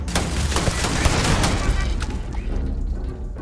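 Turret gunfire in Starfield, a rapid close volley of loud shots rattling across a long hallway, dense bursts fading toward the end.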